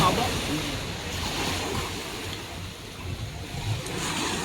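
Sea waves wash and rumble at a small-boat race off Bauan, Batangas, with wind buffeting the microphone and a constant watery roar, while people talk faintly in the background.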